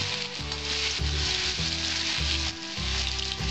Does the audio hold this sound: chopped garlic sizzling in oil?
yes